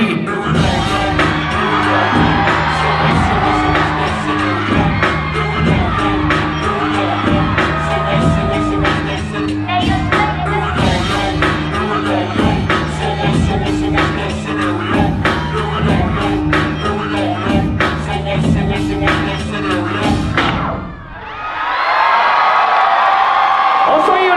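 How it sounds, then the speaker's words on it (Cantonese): A loud crowd at a university mass dance performance whoops, shouts and cheers over booming, pulsing dance music, then the music cuts and a burst of cheering and applause swells near the end. "掌聲歡呼聲送俾佢哋"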